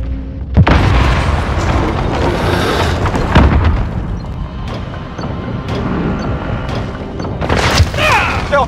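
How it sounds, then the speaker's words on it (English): A cruise missile explodes in Call of Duty: Modern Warfare: loud, close booming blasts and crashing rumble fill the stretch, with sharp bursts near the start, middle and end over a continuous roar. "Enemy cruise missile incoming."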